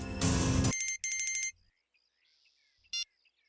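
A phone ringtone rings in a tense domestic drama scene: a loud burst of electronic chiming, then a choppy repeating melody, trailing off into quiet with one brief high beep near the end.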